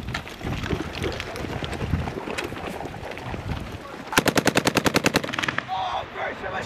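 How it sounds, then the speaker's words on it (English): Machine gun fire on a live-fire range by a combat team runs in a rapid, evenly spaced burst of loud shots after a stretch of wind-buffeted noise and scattered distant pops, with outdoor wind rumble throughout. "Oh, Grace, your machine gun fire in the trenches"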